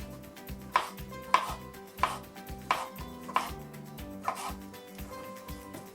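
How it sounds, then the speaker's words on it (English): A knife slicing butternut squash into thin slices on a board, about eight crisp, evenly spaced chops close up, with no talking. "I'm going to use my claw technique and I'm going to go along and cut it into thin slices"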